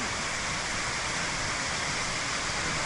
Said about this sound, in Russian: Блин, какое водопадище.